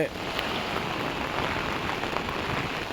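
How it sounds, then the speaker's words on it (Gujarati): A steady, dense rush of a flooded river flowing fills the clip, close and constant, with a rain-like patter of heavy rain layered over the roar. "બંને કાંઠે નદીનો પુલ પ્રવાહ વહી રહ્યો છે"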